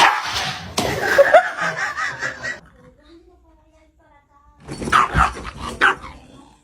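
A puppy barks and yaps in two short bursts with a quiet gap between, close and fairly loud, mixed with excited voices and laughter.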